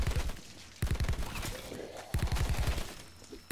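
Loud bursts of rapid automatic gunfire from Call of Duty: Black Ops 4, with several dense volleys of close shots separated by brief pauses.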